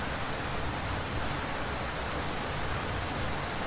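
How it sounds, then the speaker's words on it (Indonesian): Steady rain falls in the Roblox Attack on Titan video game, a dense, even hiss that fills the whole clip at moderate level with no talk over it. "Hujan-hujan, teman-teman."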